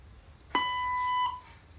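One sustained electronic beep from a robotic translator's voice prompt, a clean pitched tone held for roughly three-quarters of a second before cutting off, alone against faint room hiss.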